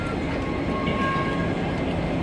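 A train at a station rumbles in a steady, dense roar with a faint high squeal, loud and continuous throughout.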